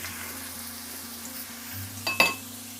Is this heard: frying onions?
yes